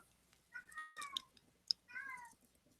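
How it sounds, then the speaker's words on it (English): A cat meows twice indoors, fairly faint, with small clicks and handling noises in between. "I can hear my cat."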